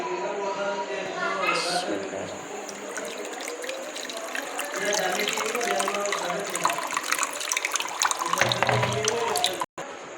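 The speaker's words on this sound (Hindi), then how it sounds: "तो अब हम इसको छान देते हैं छन्नी की मदद से।" Liquid trickling and splashing as ground kari sharbat is strained through a sieve, a steady wet pour running under a continuous voice, close and moderately loud.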